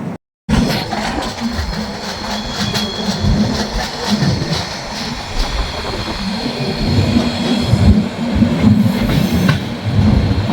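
The Jodhpur Express running on the line, heard from inside the train: a steady loud rumble of wheels and carriages with rhythmic clatter and occasional squeals, continuous throughout.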